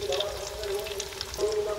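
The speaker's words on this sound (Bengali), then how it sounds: "এগুলো খুব সুন্দর করে ভাজা হয়ে গেছে" Samosas crackle and bubble in hot oil over a low-to-medium flame, a close, continuous frying hiss that runs steadily through the short stretch.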